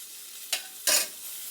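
Food in a hot pan, pressed down under a press, gives two short bursts of sizzle after being flipped, the second louder and broader, then settles to a faint hiss.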